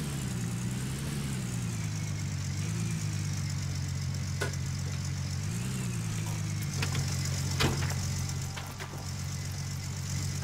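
A truck engine idles in a steady low rumble that runs the whole time. A few sharp clicks and knocks sound over it near the end, outdoors on a cold 43-degree day.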